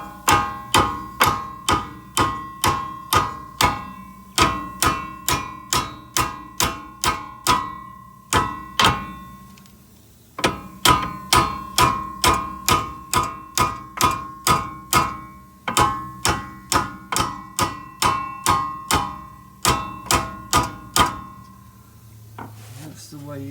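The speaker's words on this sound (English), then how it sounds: "Then get your light duty hammer." A light duty hammer tapping on a brake part of a 2000 Volkswagen Beetle, with sharp metallic strikes in steady rapid runs separated by brief pauses, close and clear.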